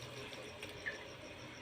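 Washed mustard and bathua greens squeezed by hand, water trickling off in a faint, soft splash with one brief louder spatter in a quiet kitchen, no talking.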